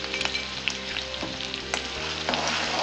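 Crushed garlic, green chilli and cumin paste frying in hot oil, a continuous dense sizzle with a few light stirring knocks, no talking.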